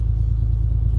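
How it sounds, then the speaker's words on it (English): A parked truck's Cummins 6.7L diesel idles with a steady, deep low rumble, loud and close, holding an even throb throughout with no speech. "When the truck is just parked and idling"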